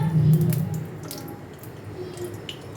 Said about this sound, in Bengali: কড়াইতে আমি সর্ষের তেল দিয়ে দিচ্ছি পরিমাণ মতো